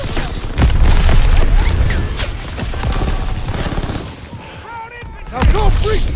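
Call of Duty Warzone battle gunfire: dense bursts of automatic fire and heavy booming shots crackle continuously, with shouted voices and whistling projectiles mixed into the loud, chaotic firefight.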